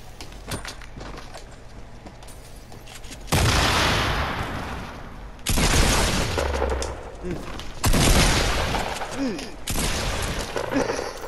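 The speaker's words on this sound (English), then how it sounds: "shoot with your AR" Assault rifle fire in the video game Fortnite comes in loud, dense bursts of shots that repeat in several long volleys, with players talking around them.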